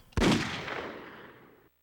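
A single gunshot sound effect from a PS2 video game demo: one sharp, loud blast with a long, fading reverberant tail, heard alone.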